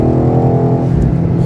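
Close by, the V8 of a 2025 BMW XM Label fitted with an Akrapovic exhaust gives a deep, rumbling burble, a continuous throaty growl with a slightly uneven, lumpy pulse.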